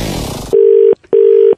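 Telephone dialing: a steady mid-pitched tone sounds loud and alone for about half a second, breaks off briefly, then sounds once more for the same length, after a short burst of busy noise.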